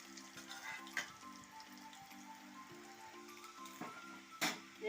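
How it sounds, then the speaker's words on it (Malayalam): Jackfruit pieces deep-frying in hot oil for chips, a low steady bubbling sizzle with sporadic sharper crackles and pops, close and fairly quiet, no speech. "ഓയിൽ ചൂടായി വന്നിട്ടുണ്ട് നമുക്ക് അരിഞ്ഞ് വെച്ചേക്കുന്ന ചക്കമണ്ടിൽ ഇട്ട് കൊടുക്കാം"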